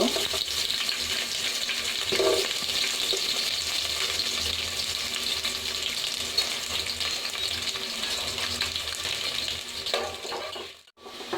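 Steady broadband sizzling of sliced onions frying in hot oil, continuous and close, with occasional clinks and a brief stir near the end.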